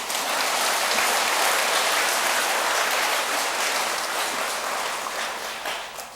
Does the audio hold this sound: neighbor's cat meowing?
no